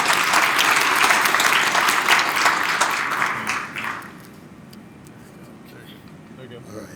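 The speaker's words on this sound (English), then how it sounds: "I would like you to give TMC Innovation, the board members, the team here, a round of applause for hosting us here today." A summit audience gives loud, sustained applause to its hosts, clapping dense for about four seconds before tapering off into room noise.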